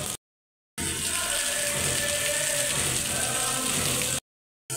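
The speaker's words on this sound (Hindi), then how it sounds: "बारिश तेज़ हो रहा है लेकिन रुक नहीं रहा है अभी तक" Heavy rain pouring down during a long monsoon-season downpour in Larkana, a dense, continuous roar heard close and loud, cut off by short silent gaps at the start and end.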